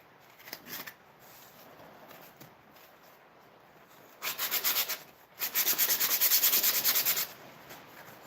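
Orbital sander working wood in a shop, with soft rubbing passes at first, then two louder sustained bursts of sanding, the second lasting about two seconds, close by.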